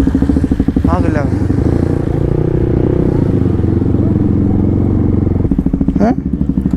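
A BMW S1000 RR sportbike idles with a loud, deep, throbbing rumble close by on a morning ride at Nahargarh Fort, with two sharp throttle blips rising and falling in pitch near the start and end.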